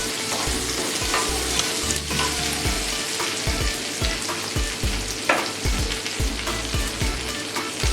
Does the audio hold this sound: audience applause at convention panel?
no